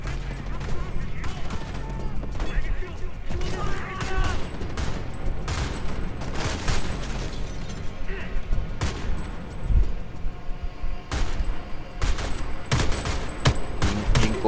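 Rapid gunfire rattles through a Homefront: The Revolution firefight, dense bursts and single loud shots crackling close over a constant battle din, with voices talking in places.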